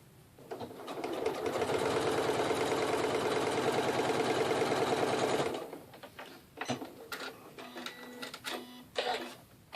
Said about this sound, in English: we will sew the basketball vinyl